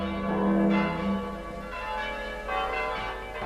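Church bells ring out across Leipzig to mark a victory, a dense, continuous peal of overlapping tolls and lingering resonant hum, steady and full with no voices.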